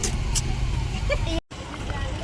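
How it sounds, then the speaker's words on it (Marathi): Road traffic on a mountain ghat road rumbles steadily with engine noise and passing vehicles, including heavy vehicles, a brief cutout midway, and muffled voices underneath. "एवढी ट्रॅफिक आहे घाटांवर"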